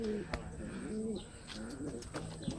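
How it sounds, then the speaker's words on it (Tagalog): Pigeons at a loft with a landing board coo in soft, repeated rolling phrases, close and clear, over low background noise. "So ayan ang kanyang mga ibon."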